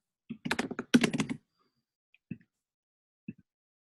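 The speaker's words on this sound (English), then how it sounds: "could you mute yourself so when you're typing we don't hear it?" Quick bursts of clacking keystrokes on a computer keyboard, then a couple of isolated taps spaced apart in an otherwise quiet room.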